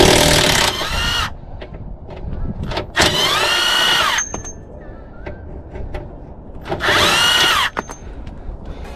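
Impact or power tool whirring in three bursts as it undoes two bolts on the front wishbone of a MK2 Ford Focus ST, with quiet workshop clicks and handling noise between the runs.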